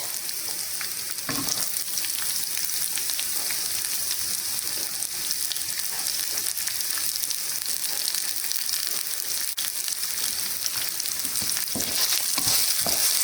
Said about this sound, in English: We're going to let this cook till it's browned, the onions.